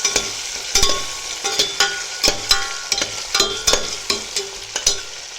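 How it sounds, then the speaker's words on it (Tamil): Onions fry in a pressure cooker for wheat rava upma, a loud sizzle broken by repeated rhythmic scrapes and taps of a ladle stirring against the pot's metal walls. "வெங்காயம் போட்டுருக்கேன். வெங்காயம் நல்லா வதங்கட்டும்."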